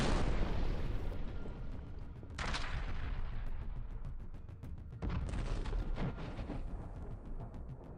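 Artillery fire and explosions in a combat zone near Kostiantynivka, heard as loud, dense bursts of booming and crackling blasts, with sharp onsets around a few seconds apart over continuous rumbling.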